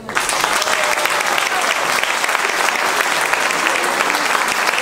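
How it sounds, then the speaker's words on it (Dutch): A live audience gives sustained, loud applause for a band at a tribute concert, dense clapping mixed with crowd noise running steadily throughout without a break. "Dames en heren, het grootste applaus, dat is voor jullie"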